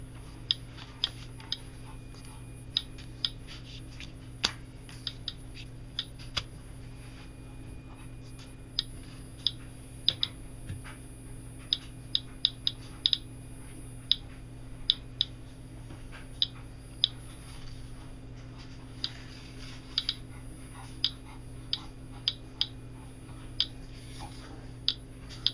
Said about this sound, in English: Definitely something normal is just a click every 4 or 5 seconds.